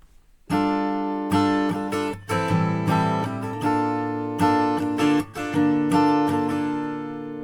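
Strummed guitar chords ring out in a slow progression, each chord sustained before the next strum, clear and close with no talking.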